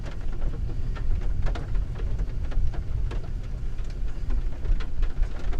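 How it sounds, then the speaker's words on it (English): Heavy rain falls steadily outdoors while low thunder rumbles through it, with no one speaking. "You can definitely hear thunder."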